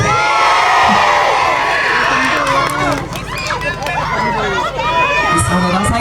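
A loud crowd at a talent show cheers, whoops and shouts continuously, with children's voices and excited babble filling the space.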